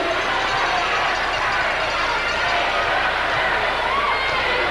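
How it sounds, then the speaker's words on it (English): A large crowd at a Houston wrestling event roars and chants continuously in the distance, a dense wash of voices beneath a commentator speaking over it. "That crowd's still chanting, they want Journey."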